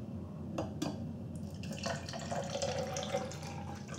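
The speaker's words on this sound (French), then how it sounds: "Je verse 3 centilitres dans mon verre doseur que je mets en premier dans mon bac." Citric acid solution pours into a measuring cup, a close liquid trickle and splash with faint clinks of the cup, over a steady low background hum.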